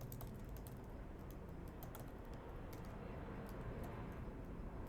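Steady keystrokes on a computer keyboard while entering HTML text, crisp clicking taps at an irregular pace over a constant low background hum, close and fairly quiet, with no voices.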